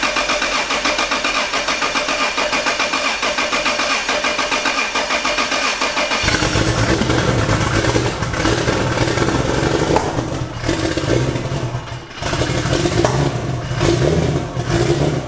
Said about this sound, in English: Like misfiring, is it?